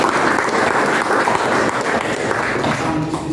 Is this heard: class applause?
yes